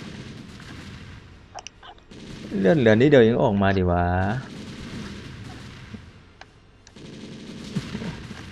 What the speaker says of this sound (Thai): เดี๋ยวรอให้มันเล่นยิงระเบิดกันนะครับ